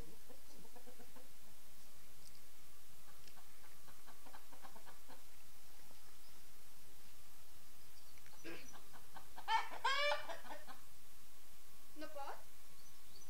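Chickens and a rooster cluck in short bursts and a few sharper squawks nearby, under and between people talking quietly.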